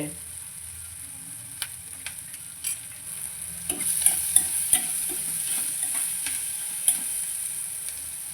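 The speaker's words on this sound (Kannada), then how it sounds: "ಈರುಳ್ಳಿ ಹಾಗೂ ಕ್ಯಾಪ್ಸಿಕಮ್ ಚೆನ್ನಾಗಿ ಫ್ರೈ ಆಗಿದೆ ಅಂತ ಹಾಗೆ ನೋಡ್ತಾ ಇರಬೇಕು" Onion and capsicum fry in a pan with ginger and garlic for gobi manchurian, a steady bright sizzle punctuated by occasional spatula scrapes and taps, close and moderately loud.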